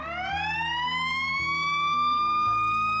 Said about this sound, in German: Und in Chicago, in den USA, klingt ein Rettungswagen so.